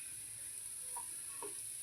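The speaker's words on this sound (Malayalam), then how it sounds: "കുറച്ചായിട്ട് ഇളക്കി കൊടുക്കാം." Carrot halwa with powdered roasted gram and sugar being stirred in a pan gives a faint, steady soft sizzle, with a couple of light scraping touches and no voices.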